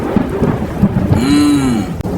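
Rain falls steadily while thunder rumbles low, mixed with a rising and falling tonal sweep and a sharp crack near the end, all loud and close.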